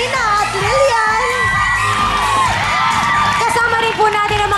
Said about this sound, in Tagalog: Sumigaw na ang mga taga-Samal, Bataan!